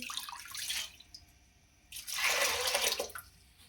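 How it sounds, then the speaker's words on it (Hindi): Water poured from a glass into a cooking pot for a lentil kebab dish, two separate splashing pours with a short pause between them, close and fairly loud, with no talking. "2 गिलास पानी ऐड करेंगे"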